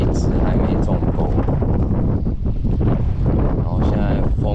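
Strong wind at sea, heard from a fishing boat in rain, roars and buffets continuously and loudly close to the microphone, with no let-up across the stretch.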